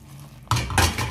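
White sauce pasta is mixed in a pan, starting quiet, then two loud close bursts of utensil scraping and clinking against the pan.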